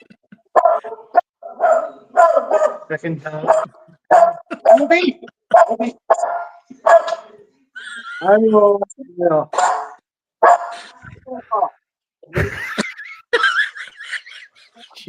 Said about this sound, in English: that's the dog he got from a rescue pound in Colchester